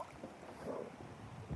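Strong wind buffets the microphone outdoors by the water on a bait-fishing outing, producing a low, uneven rumble with gusty swells across the brief moment.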